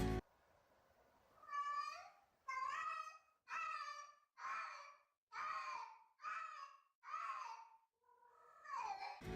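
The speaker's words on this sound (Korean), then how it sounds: "그 소리가 바로 고양이 발정 소리예요." A female cat in heat yowls repeatedly in long, drawn-out, wailing cries with short pauses between them, loud and close, sounding almost like a crying baby.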